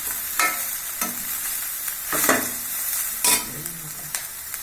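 Cabbage and other vegetables for momo filling stir-frying in a pan, a continuous sizzle with a few louder scraping strokes of the spatula about once a second, close and clear, with no voices.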